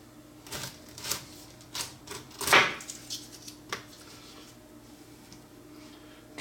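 A sharp knife trims the skin from the sides of a pineapple in a few quiet crunching and scraping strokes, with one longer, louder slicing cut in the middle and soft taps between.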